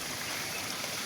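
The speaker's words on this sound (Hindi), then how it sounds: "ये वादी समानी आज़ाद कश्मीर में झरना है जनाब" A waterfall in a valley in Azad Kashmir rushes in a steady, dense wash of water noise, continuous and fairly close, with no voices over it.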